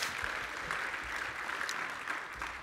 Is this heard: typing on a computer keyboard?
no